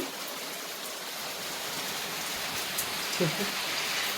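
Heavy rain pours down outside while food is cooked in silver steel pots, a steady dense wash of falling water with a few faint thuds near the end.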